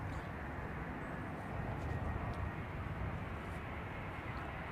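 An Airbus A350 airliner lands at London Heathrow, a broad steady roar of jet engines sustained throughout, moderately distant and unbroken, with no voices.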